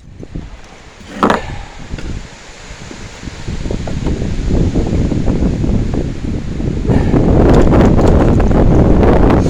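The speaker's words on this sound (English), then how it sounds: "Super windy out here." Strong wind buffets the microphone at an outdoor house-addition decking site in a steady roar that builds and grows louder over time, with a brief sharp knock early on.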